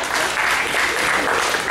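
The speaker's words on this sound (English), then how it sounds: "round of applause." An audience at a live post-prom hypnosis show claps for a contestant, a loud, dense round of applause that stays steady the whole time with no voices on top.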